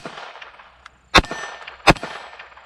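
.22 LR rounds from a Sig Sauer P322 pistol striking a steel gong: two sharp, ringing metallic clangs about a second apart over a faint outdoor background, no talk.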